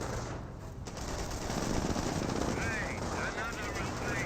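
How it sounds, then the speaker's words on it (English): Sustained rapid gunfire and explosions from a Company of Heroes match, loud and dense throughout, with a faint whistling sound late in the clip and no talking. "Snipers firing away"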